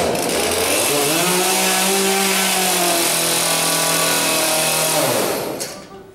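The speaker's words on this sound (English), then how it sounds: "To show you that this chainsaw is sharp, I'm going to cut this delicious apple." A sharp chainsaw's engine roars loud and close as it cuts through an apple during a juggling stunt, with the pitch rising as it revs and then falling away at the end.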